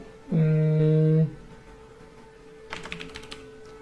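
A short burst of quick keystrokes on a computer keyboard follows a loud steady electronic tone, the typing faint and close with no talking.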